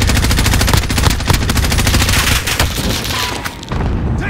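Dense, loud barrage of cluster strike explosions in Warzone, a rapid rattling string of blasts and booms rolling on for several seconds with a brief dip near the end before resuming.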